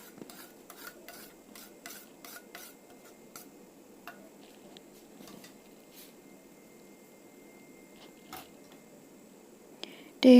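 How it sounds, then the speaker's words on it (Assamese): Crushed fried wheat mixed with roasted flour by hand, with soft scraping and rubbing strokes that come in an irregular series of short ticks, faint and close, followed by a louder bump at the end. "এতিয়া এই গুড়ি কৰা গমখিনি ভাজি থোৱা আটাখিনিৰ লগত মিহলাই ল'ম।"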